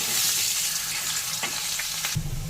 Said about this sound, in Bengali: ওই তেলের মধ্যে আলুগুলোকে দিয়ে একটু ভেজে নেব।